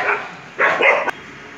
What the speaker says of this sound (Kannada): ಸಾರ್ವಜನಿಕರಿಗೆ ಹಾಗೂ ಪುಟ್ಟ ಮಕ್ಕಳಿಗೆ ಬೀದಿ ನಾಯಿಗಳು ಆತಂಕ ಉಂಟು ಮಾಡಿದ್ದು